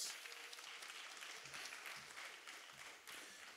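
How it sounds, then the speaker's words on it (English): Audience applause at a college founding day anniversary ceremony, a continuous, fairly faint patter of many hands clapping that carries on evenly for several seconds. "Let's give Ken Rico another round of applause."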